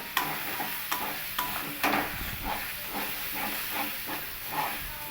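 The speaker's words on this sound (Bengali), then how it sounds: "এবার এই ডাল বাটাটা দিয়ে আমি খুব ভালো করে একটু তেলের সঙ্গে মিশিয়ে নেব" Lentil paste is stirred with oil in a pan over a steady soft sizzle, with a spoon scraping and tapping in an irregular rhythm, close and moderately quiet.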